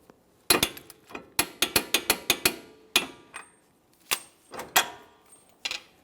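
A torque wrench tightens the front wheel hub nut to 180 foot-pounds on a 2014-2018 Mazda 3, sharp close ratcheting clicks in a quick run of strokes followed by a few spaced, separate clicks.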